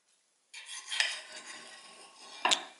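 A knife scrapes and cuts through crispy grilled monkfish souvlaki kebab, with a sustained scraping stroke, a brighter scratch midway and a sharp clink of metal near the end, close up.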